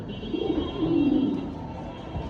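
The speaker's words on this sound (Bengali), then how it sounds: "দেখেন জাস্ট ডাক দেখেন কবুতরে ডাকটা" A big pair of Gazi Modana pigeons coos in a low, rolling burr that swells for about a second, then fades into quiet room noise, with no talking.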